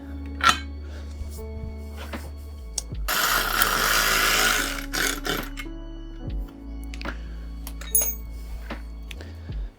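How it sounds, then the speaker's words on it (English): Bolting a mudguard part onto a Kawasaki Z400 in a shed: sharp metallic clinks and taps, then a few seconds of loud buzzing power-tool whir, followed by more scattered clinks and handling noises against a steady low hum. "So I'm going to temporarily bolt this on to the top one, which is nice and centered."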